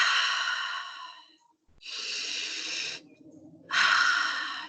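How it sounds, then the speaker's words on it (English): Three deep, slow breaths drawn close to the microphone, each a long airy rush with short quiet gaps between, the last one the loudest. "I want you to take a deep breath"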